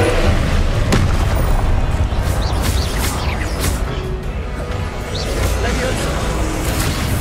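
In the video game Hogwarts Legacy, the fiery Confringo spell blasts with deep booms over a continuous low rumble, while a voice speaks.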